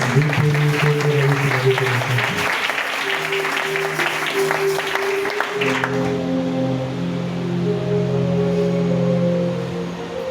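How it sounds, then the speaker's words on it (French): A church congregation applauds loudly for several seconds over sustained music, the dense clapping fading near the end as the music carries on. "On applaudit très fort pour le nom de Jésus."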